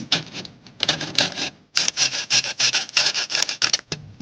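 A screen door track edge is trimmed by hand, giving loud, close rasping strokes that come in two bursts separated by a brief pause.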